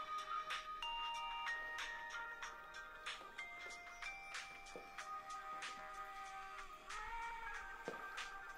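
A mobile phone ringtone plays its bright electronic melody over and over, quiet and steady with no talking.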